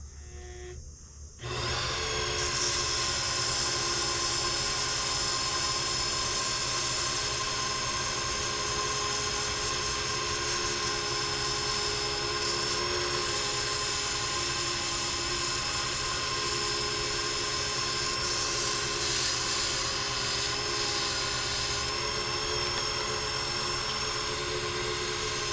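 A wooden pen blank spinning on a lathe while a 220-grit sanding pad is pressed to it, a steady whirring drone with a constant rubbing hiss that starts abruptly and runs unbroken, no talking.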